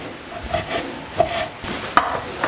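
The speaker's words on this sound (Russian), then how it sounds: "Нарежем куриную грудку на небольшие куски" A knife taps and slices through chicken breast on a cutting board, a few soft irregular cuts with light scraping, close and unhurried.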